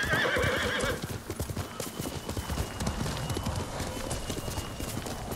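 Hoofbeats of a galloping horse in the video game Ghost of Tsushima pound in a rapid, steady rhythm, loud and close. A brief high whinny comes at the start, and game music plays underneath.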